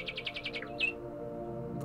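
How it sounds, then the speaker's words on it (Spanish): Repeated bright bird chirps and tweets from the puzzle video game Back To Bed, a quick run of evenly spaced calls followed by one longer trill, clear and fairly close over a steady low game hum. "Pajaritos."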